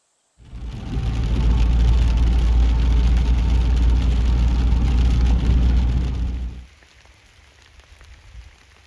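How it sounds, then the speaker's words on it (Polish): Steady heavy rain pattering densely in the mountains for several seconds, then stopping abruptly, leaving a quiet background. "posłuchajcie tego deszczu"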